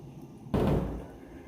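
A fiberglass hood on a Jeep TJ is lifted with one sharp, hollow thump, close and brief, that fades into quiet.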